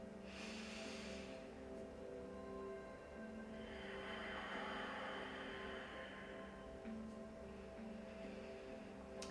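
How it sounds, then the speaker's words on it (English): Slow, audible yogic ujjayi breathing through a constricted throat, a soft hissing rush like distant waves, heard up close in an otherwise quiet room. "This is known as the Ujjayi Breathing in yoga, and you may hear it."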